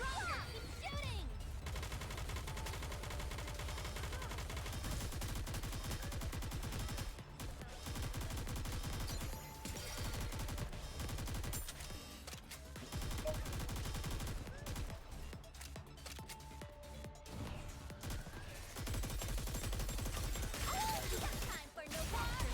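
Sustained automatic gunfire from the anime shooter Goddess of Victory: Nikke, dense rapid bursts running almost nonstop with brief gaps, loud and close over game music, with character voice lines breaking in now and then.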